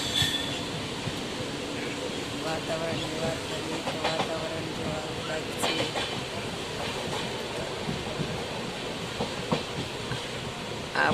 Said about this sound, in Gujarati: જો બાજુમાં રેલગાડીનું એન્જિન છે.